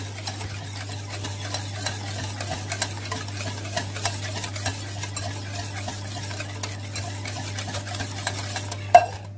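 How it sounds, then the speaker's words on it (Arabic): A spoon stirs sugar and other cake ingredients in a bowl until they dissolve, soft repeated scraping and light ticks against the bowl at a steady pace over a low constant hum, ending with a sharper clink. "وافضل اقلب لحد ما كل المكونات اللي عندي تحت تدوب"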